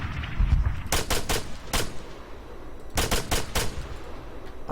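Bursts of video-game gunfire in the Epoch mod: several sharp shots in quick clusters, one group near the start and a second group a second or so later, loud against a steady low rumble of background noise.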